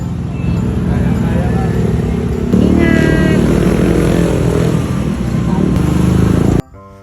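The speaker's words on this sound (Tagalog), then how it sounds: "Oh, ganda ng motor ni Kuya." A motorcycle idles, then revs and pulls away from a house at night, its engine loud and steady before cutting off abruptly near the end, with people talking over it.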